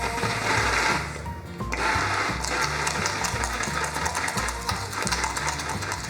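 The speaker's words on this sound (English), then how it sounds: "now you'll see how white it gets when you blend it with a stick blender" A stick blender whirs steadily through doughnut cake mixture tinted with titanium dioxide, a loud continuous motor drone with a brief dip in pitch partway through, no talking.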